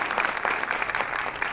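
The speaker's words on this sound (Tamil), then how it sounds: "அவங்க கைத்தட்டல காமிச்சிருவாங்க." An audience at a Tamil humorous debate event in Dubai claps steadily, a dense patter of many hands held at an even level from start to finish.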